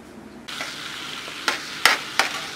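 A pound of butter, four sticks, melts in a pot over a high burner with a soft steady sizzle, broken by a few sharp scraping stirs near the end.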